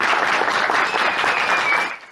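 A burst of dense applause from a large theatre audience, many hands clapping steadily before fading out at the end.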